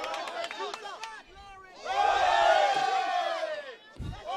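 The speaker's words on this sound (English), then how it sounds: "They're cheering every positive touch." Fans cheer at the SAC women's soccer championship, a swelling wave of crowd voices and whoops that rises, holds for about two seconds, then fades, with commentary talking over it.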